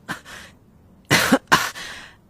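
An elderly grandmother coughs several times, first two quiet short coughs, then after a pause two harsh, louder hacking coughs close by, trailing into a faint breath.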